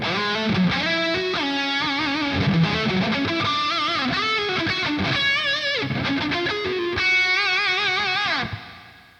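Distorted electric guitar through a Revv G20 amp and Revv 4x12 cabinet with reverb added, playing a bending, melodic lead line loud and upfront, ending on a sustained note that trails off with no talking.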